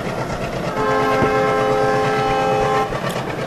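A train runs in a train simulator game set in Bangladesh, a loud horn blast holding steady for about two seconds over a continuous rumble of rolling wheels.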